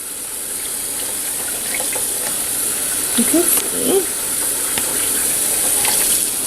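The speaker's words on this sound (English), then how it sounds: "now I'm just filling the bucket back up" Clean, lukewarm tap water gushes steadily into a bucket with a constant hiss, as a person speaks briefly in the middle.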